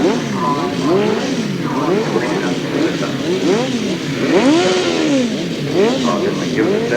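Grasstrack racing motorcycles rev loudly at the start line, several engines rising and falling in repeated overlapping swoops, with an announcer talking over them throughout.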